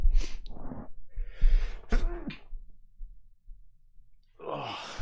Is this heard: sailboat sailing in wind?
no